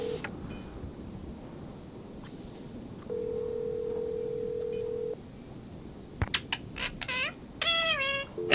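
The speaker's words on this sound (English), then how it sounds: "That's the sound of a toucan." Toucan calls from the Nancy Drew game Treasure in the Royal Tower: a burst of bright, stacked, croaky squawks near the end, after a steady electronic tone and some faint background clatter.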